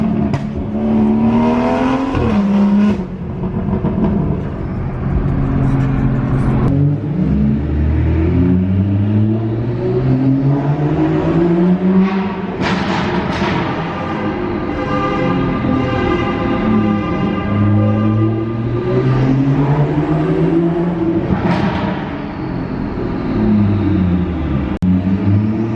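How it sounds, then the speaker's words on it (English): A BMW F30 335i engine revs hard through repeated rising and falling sweeps, with turbo spool whine riding high above the loud, close exhaust note and no one talking. "the turbo spool"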